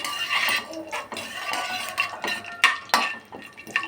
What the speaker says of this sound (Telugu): తాలింపులు జీలకర్ర వేయాలి జీలకర్ర వేసి దాన్ని కలుపుకుంటూ